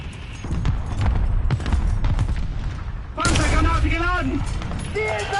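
Gunfire and booming shots in the tank combat game War Thunder, heavy thumps and rapid bursts up close, with someone talking over the action and a whistling, warbling effect in the second half.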